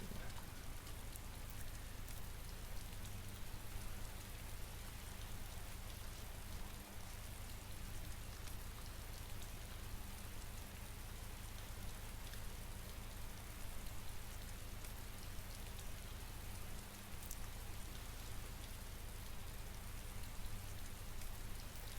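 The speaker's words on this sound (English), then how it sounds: "It started to rain." Rain in the video game Arma 2: DayZ Mod: a faint, steady patter of rainfall on surfaces continues evenly throughout, with no voices.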